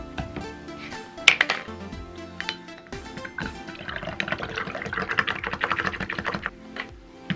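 A drink is stirred briskly after a squirt of syrup goes in, giving a dense run of rapid clinking and rattling taps with liquid swishing, close and fairly loud, with no voices.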